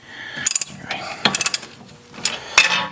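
A ratchet wrench tightens bolts on the steering knuckle of a 2006 Toyota Matrix, giving quick bursts of sharp metallic clicks in short runs with brief pauses, close up.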